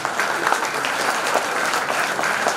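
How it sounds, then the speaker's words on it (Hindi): An audience at a college event claps warmly to welcome a guest, producing an even, continuous patter of many hands at moderate loudness with no pauses. "जोरदार तालियों से स्वागत कीजिए डॉक्टर अश्विनी सर का"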